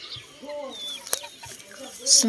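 A rooster at a backyard chicken coop gives soft, short clucks and low calls in a quiet afternoon setting, close but faint, with a brief sharp tap in the middle.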